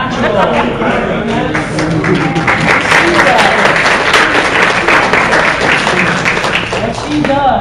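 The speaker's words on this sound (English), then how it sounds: "You got a little clapping going on for you." People clapping along during beginner stunt and fight choreography training, a steady loud patter of hands filling the room while a voice counts and talks over it.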